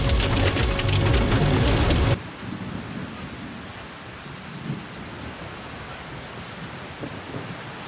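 A heavy thunderstorm with rain opens with a loud, dense roar of downpour and rumble, then drops to a steady, softer wash of rain with occasional low thunder rolls.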